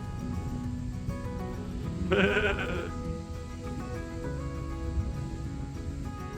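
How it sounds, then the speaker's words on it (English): A single sheep bleats once, clearly and fairly close, against quiet open-air background on a backpacking trail in Sweden's Billingeleden area. "But I spotted some sheep."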